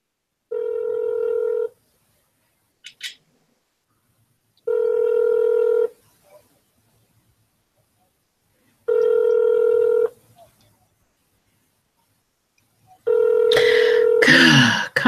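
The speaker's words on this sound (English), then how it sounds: "Your call is being transferred." Telephone ringback tones during a call transfer to a senator's office, four evenly spaced long rings with a short click between, the last overlapped by a voice speaking.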